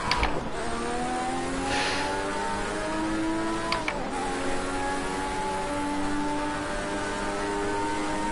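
Senna's Lotus race car engine revs hard and climbs steadily through the gears, a loud, close, continuous whine with a brief dip near the middle before pulling up again.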